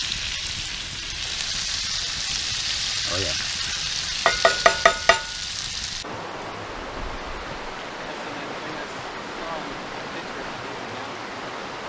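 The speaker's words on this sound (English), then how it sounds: "Got a cast iron skillet with a handmade spatula. Cooking some onions and potatoes." Onions and potatoes fry in a cast iron skillet over a riverside campfire, a steady hiss of sizzling with a few scraping taps from a handmade spatula, then the sound cuts to flowing water as someone speaks briefly.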